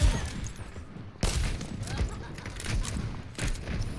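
Bastion's ultimate artillery barrage lands on the Rialto map in Overwatch 2, a rapid series of booming explosive thuds amid busy gunfire and game noise.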